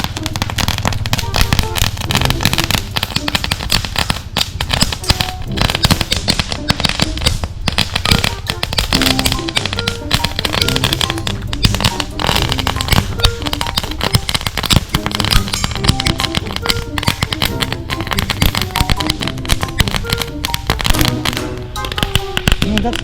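Dense, rapid crackling of firecrackers from Divisoria, Manila, bursting continuously for nearly a minute, loud and close, with a steady popping barrage.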